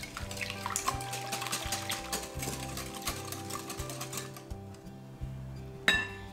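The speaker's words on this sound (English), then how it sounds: "again whisk until the eggs are completely mixed well" Rapid, steady whisking of eggs in a mixing bowl for a fruit yogurt cake batter, a continuous clinking, rattling rhythm close up that slows near the end, with a brief knock just before it stops.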